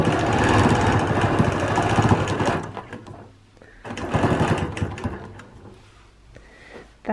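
A sewing machine stitches half circles along a circle ruler on a quilt, running in two steady, close bursts of rapid needle chatter with quieter pauses between them.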